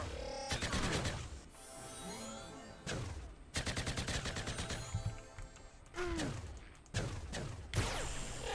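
Bursts of rapid gunfire from a hunt in Entropia Universe at Orthos Oil Field, with several loud volleys separated by short pauses and metallic impacts, alone without talk.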